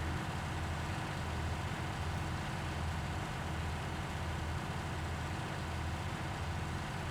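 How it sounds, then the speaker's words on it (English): A tractor engine in Farming Simulator 19 labouring up a steep slope, a steady low droning rumble that holds constant and fairly quiet throughout, with no voices. "this must be steep because my tractor's having a hard time pulling"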